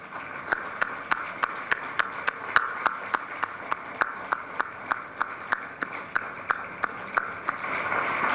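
At the opening of the 2014 European Film Festival at Dev Sanskriti Vishwavidyalaya in Haridwar, India, a crowd claps in unison at a steady, even beat, each crisp clap sounding about twice a second over soft room noise.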